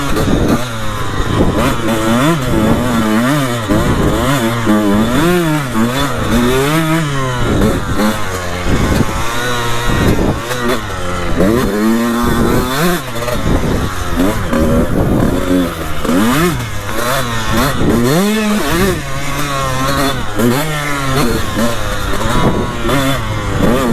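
A 2003 Honda CR125 two-stroke dirt bike screams and revs through beginner jumps, its loud, raspy engine rising and falling continuously up close with constant throttle changes.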